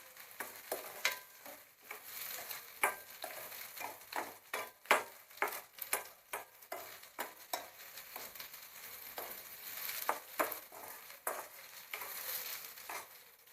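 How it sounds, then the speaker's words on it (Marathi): Tomatoes sauté in a pan for a black pea usal, a soft sizzle under a busy rhythm of repeated spatula scrapes and taps, close and fairly quiet, with no talking. "चांगला सॉफ्ट होईपर्यंत परतून घ्यायचा टोमॅटो"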